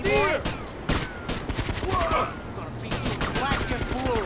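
Rapid bursts of gunfire in the video game GTA Liberty City Stories, loud and repeated volleys across the whole stretch, with someone talking over the shooting.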